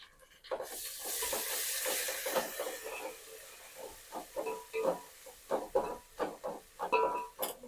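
Ginger garlic paste sizzles and spits in a hot pan, with a loud burst of frying at first and then a run of irregular scraping stirs as the paste is worked around, all close by with no talk.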